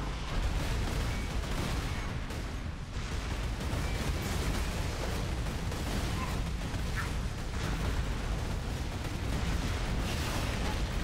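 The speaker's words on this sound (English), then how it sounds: "Grenade." Grenade blast amid constant heavy gunfire and combat noise during an arena clear in the game Vigilia Mortis, dense, loud and unbroken throughout.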